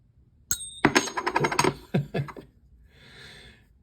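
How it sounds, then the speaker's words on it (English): Metal tool taps the rim of a 1992 American Silver Eagle silver coin: a bright, ringing ping near and clear, followed by a quick cluster of lighter taps, then a softer fading shimmer with no talk. "I want to tap the edge of the rim of this coin"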